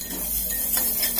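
Ginger, garlic and chili frying with cumin and mustard seeds are stirred in a pan for dal dhokli, a constant loud sizzle with a few faint utensil scrapes against the metal.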